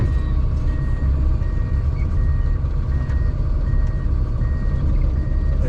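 Snowcat grooming machine with a tiller and blade reverses on fresh snow, its backup alarm beeping steadily over a loud, constant engine rumble.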